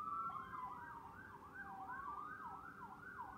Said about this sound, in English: it's sirens. Let me see. Oh, it's an ambulance.